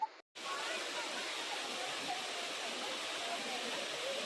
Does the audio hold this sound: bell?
no